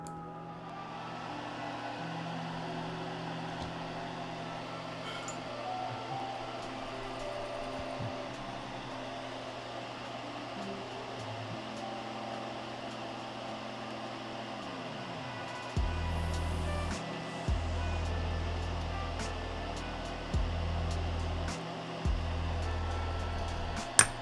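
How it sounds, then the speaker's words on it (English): A small fume extractor runs in the next room, a faint steady motor hum and airflow in the background that grows slightly louder partway through, with no talk. "there will be the sound of a small vacuum in the next room as I turn on my fume extractor"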